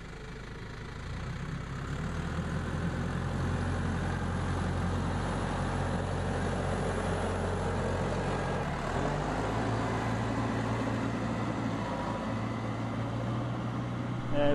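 Several farm tractors idle together in a steady low rumble, constant and moderately close, with a slight change in engine note partway through.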